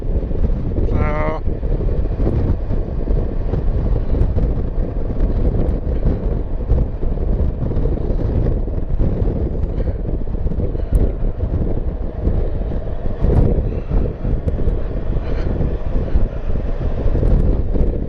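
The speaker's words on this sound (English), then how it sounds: "I think you can hear the wind either way." Heavy, constant wind roar buffets the helmet microphone of a rider on a Kawasaki Versys motorcycle with the visor slightly open, loud and unbroken throughout, with a voice faintly underneath.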